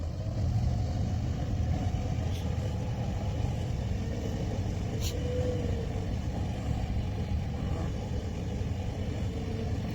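A car engine runs steadily at a low idle-like rumble in a muddy off-road setting, a continuous mid-loud drone with no clear gear change or revving heard.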